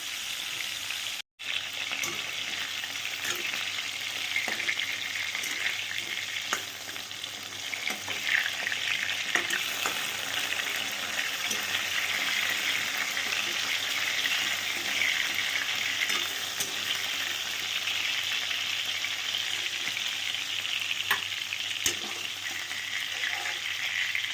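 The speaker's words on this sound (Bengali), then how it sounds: "মাছটা ভালো করে সুন্দর করে ভেজে নাও।" Fresh fish frying in hot oil in a kadai, a dense, continuous loud sizzle crackling steadily throughout with small pops and occasional scrapes.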